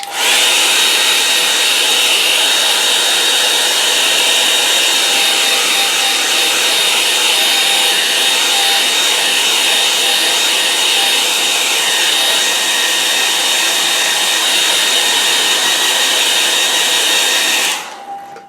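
A hair dryer blows steadily to dry a wet watercolour painting of an autumn evening scene, a loud continuous whoosh running alone for about seventeen seconds before cutting off.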